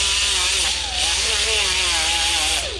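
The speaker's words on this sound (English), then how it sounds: "Grind it a little bit to get the Bondo something to adhere to." Power grinder working a damaged 240sx car fender to rough up the metal for Bondo filler, a loud continuous high-pitched whine with shifting pitch sustained throughout, no talking.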